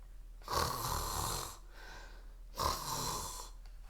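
A cartoon monster snores loudly through a nap, two long drawn-out snores with a pause of breathing between them, heard alone over a low steady hum.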